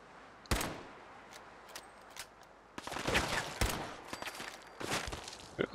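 Gunfire in Fallout 4 at a factory: scattered sharp shots, a few isolated early, then denser bursts of firing with some footstep-like clatter, moderately close.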